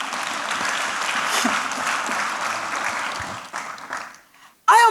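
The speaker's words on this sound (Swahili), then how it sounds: "Mpigie Yesu makofi." A church congregation applauding during a service, a thick wash of clapping that holds steady, thins out near the end and fades, followed by a sharp burst at the very end.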